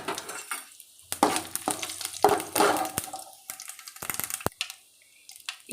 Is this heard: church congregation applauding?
no